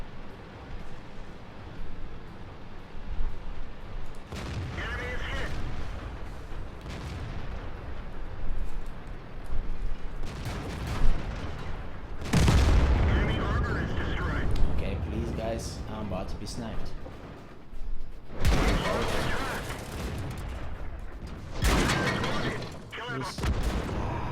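Tank cannon fire in a T-54 to T-62A tank battle video game, several heavy booms spaced over the stretch, each a loud low blast with a rumbling tail, with someone talking between them.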